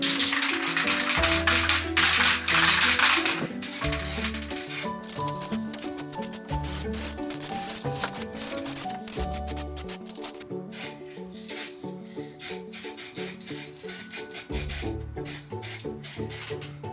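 A spray can coats a stripped SLR camera body with light-coloured paint, giving repeated short hissing bursts between pauses and quieter rubbing and handling sounds, close and fairly soft.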